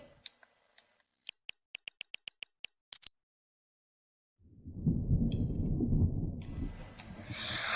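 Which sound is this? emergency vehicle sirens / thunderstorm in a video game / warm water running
thunderstorm in a video game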